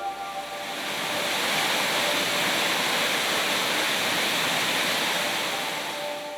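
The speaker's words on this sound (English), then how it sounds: "the waterfall is in such a remote location that most of the locals didn't even" A remote waterfall in Arkansas roars in a steady, broad, hissing wash of falling water that swells slightly and then holds, close and loud, with no voices.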